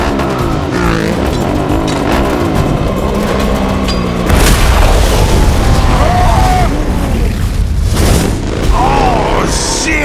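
A grenade explodes during a movie car chase with a helicopter, a heavy boom bursting out midway over loud engine roar, screeching tires and shouted voices.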